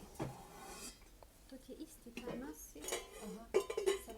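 Metal cookware clinks and clatters while a heavy double-bottomed saucepan is handled in a shop, with scattered knocks and scrapes, and someone talks softly throughout.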